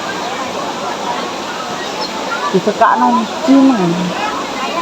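A rocky river flows near Lembah Wilis in Madiun with a steady broadband rush of water that stays constant throughout, while people talk over it partway through.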